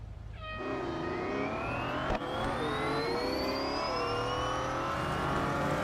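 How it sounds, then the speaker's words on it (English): An electric race car speeds around a track in the racing game Real Racing 3. Its rising, whining motor tones climb steadily, with a sharp click partway through and a continuous smooth whir. "Oh, somebody's got an electric car"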